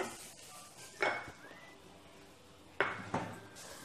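A spoon mixes salt into a dry spice masala in a bowl, with two or three sharp clinks and scrapes against the bowl separated by quiet pauses, close and without talk.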